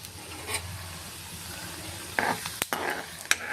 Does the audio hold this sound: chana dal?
yes